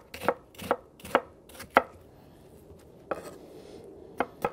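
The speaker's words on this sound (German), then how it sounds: "dann schneiden wir jetzt die Zwiebeln in Halbringe" Onions are cut into half rings with a knife on a cutting board. About eight crisp, close chops come in an uneven rhythm, with a pause in the middle and no talking.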